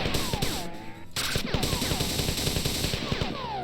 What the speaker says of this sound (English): So just get ready to go in and shoot. Go in, guns blazing.